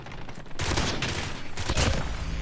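Burst gun firing in a shooter video game, rapid loud volleys in quick clusters, close and dense, with no talk.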